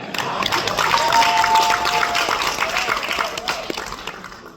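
Applause at a parliamentary plenary session, a roomful of people clapping steadily and fairly close, with voices audible beneath the clapping as it gradually thins out.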